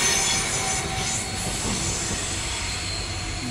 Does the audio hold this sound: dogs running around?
no